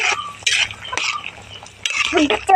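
A spoon stirs potatoes and meat in a cooking pot, giving close, intermittent scraping and clinking against the metal with soft wet shuffling between strokes.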